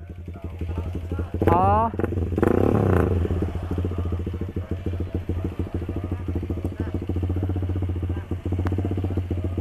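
A Sonic 150R motorcycle engine sputters to life and settles into a steady, close idle with a low throbbing rumble, under a brief exclamation and background chatter from a busy spot.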